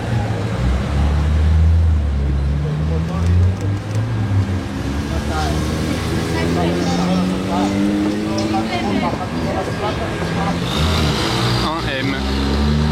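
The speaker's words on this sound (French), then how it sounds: "la Skyline GTR suivie d'une GT3 RS" A Nissan Skyline GTR and a Porsche GT3 RS drive past on the street in Monaco during Top Marques, their engines rumbling and revving under steady talking.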